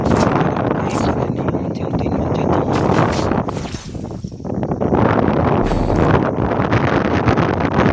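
Strong wind buffets the microphone, a loud continuous roar with rumbling gusts that briefly ease midway before surging back.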